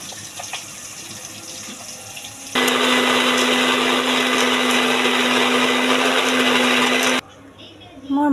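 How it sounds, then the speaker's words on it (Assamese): An electric blender grinding tomatoes runs with a loud, steady whirring drone for several seconds, then cuts off abruptly, with quieter kitchen noise before and after. "বিলাহীটো মই পিচি ল'ম"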